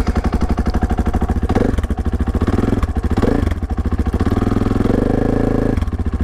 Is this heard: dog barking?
no